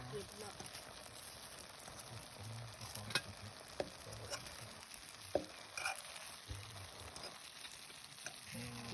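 Sausages sizzle steadily in a hot pan, a constant crackling hiss with occasional sharp pops and clinks.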